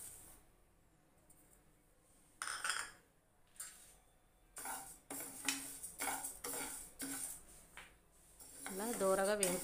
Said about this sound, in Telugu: అలా దోరగా వేయించుకోవాలి పెసరపప్పుని